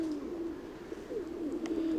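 Pigeons coo softly in a hazy sky, a low murmuring coo running steadily through the moment, faint and somewhat distant, with a brief higher chirp near the end and no voices.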